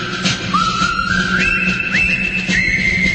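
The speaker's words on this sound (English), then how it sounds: "Hey, I'm whistling." Someone whistles a short rising, sliding melody, clear and close, over a faint steady background hum.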